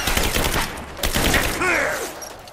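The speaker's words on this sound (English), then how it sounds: "Suppressing fire!" Suppressing gunfire in the video game Rise of the Tomb Raider: several loud, close bursts of rapid shots in quick succession, with a brief shouted voice over the firing.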